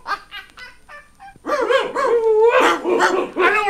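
Hunting dogs bark in a fox tale: a few sharp, sparse yaps come first, then a dense, loud burst of overlapping barking and yelping from several dogs close by.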